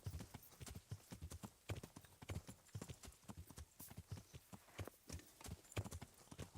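Hooves clip-clop in a steady, even rhythm as a horse is ridden in the medieval game Kingdom Come: Deliverance, quiet and continuous with faint game ambience and no talk.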